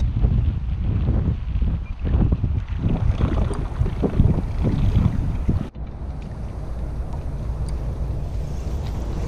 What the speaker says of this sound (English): The wind is very bad here